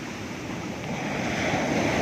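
Steady broadband roar of ocean surf rolling in, building slightly louder toward the end, with wind noise across the microphone.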